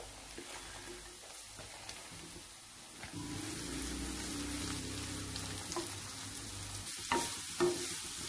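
Finely chopped cabbage frying in a pan for Chinese samosa filling: a fairly quiet, continuous sizzle with scattered light clicks and scrapes from stirring, and no voices.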